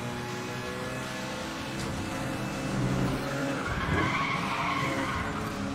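A car in the racing video game Need for Speed: The Run skids and fishtails, with long rising and falling tire squeals over a steady engine drone, loud and continuous, swelling toward the end.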